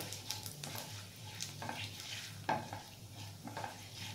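Dry red chillies and panch phoron are stirred in hot oil, a faint low sizzle punctuated by repeated light spatula scrapes and taps against the pan at an uneven rhythm.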